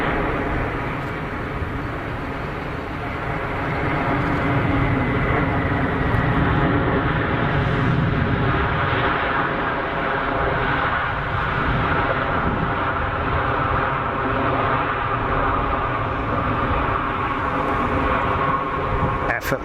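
A Boeing 787 Dreamliner airliner at Geneva Airport gives off a sustained jet roar that swells and then holds steady for about twenty seconds, with a voice speaking over it.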